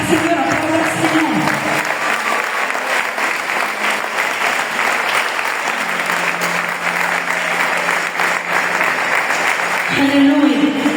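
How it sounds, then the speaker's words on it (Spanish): A church congregation applauds loudly and continuously for about eleven seconds, a dense wash of clapping with voices faintly audible underneath at the start and end. "Aplauda, Señor,"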